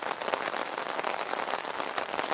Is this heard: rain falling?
yes